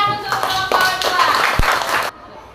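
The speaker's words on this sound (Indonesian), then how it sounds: "Oke, berikan tepuk tangan untuk kelompok 2." Brief clapping for a student group in an Indonesian classroom, mixed with overlapping voices and cheering, then cutting off abruptly near the end.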